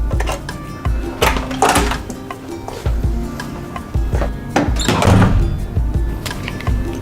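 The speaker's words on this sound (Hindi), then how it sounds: "भारी दरवाजे, लगता है कि कई जगह पे आए हो।" Heavy doors at a luxury restaurant swing and thud several times, with scattered knocks and clatter over a steady, busy background din.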